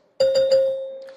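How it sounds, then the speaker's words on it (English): A single bell tone signals the end of a candidate's speaking time at a televised Republican presidential debate in Texas, struck sharply with a few pulsing beats before ringing out steadily and slowly fading, with no talk over it. "a bell will sound like this"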